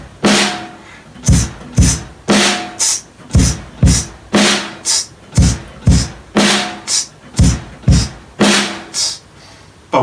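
Drum kit playing a steady groove with hi-hat eighth notes between kick and snare, loud and close, with an even, repeating rhythm of sharp hits throughout.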